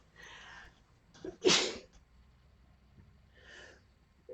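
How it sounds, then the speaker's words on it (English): A single sharp, close sneeze with a quick intake of breath just before it, framed by soft breathy sounds before and after. "I gotta sneeze."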